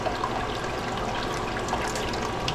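Water surges and gurgles steadily through a Raritan Electro Scan marine sanitation device on a boat under refit, a continuous close rushing flow with a primed pump working behind it.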